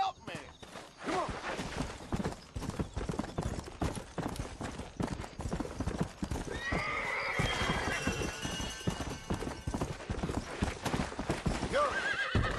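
In Red Dead Redemption, a horse's hooves clatter in a fast gallop and the horse neighs shrilly partway through, with shouting voices over the action.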